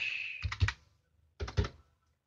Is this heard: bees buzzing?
no